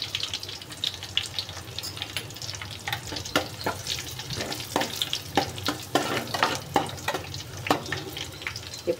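Dried red chillies fry in hot oil for a shark curry, giving a continuous crackling sizzle. Sharp spatters and the clatter of a stirring spoon sound close by, with no talking.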